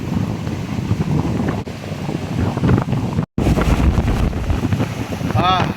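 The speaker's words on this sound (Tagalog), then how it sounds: "Ang lakas ng hangin." Strong wind roars across a microphone at the sea off Corimao, with heavy waves churning and crashing underneath, loud and steady throughout, with one brief dropout midway.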